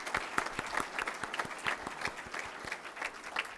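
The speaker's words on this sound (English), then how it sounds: "They deserve a round of applause." Audience applause for event co-chairs at a fire and rescue awards ceremony, a room of people clapping with distinct, fairly rhythmic hand claps standing out over the general patter, moderately loud and steady throughout.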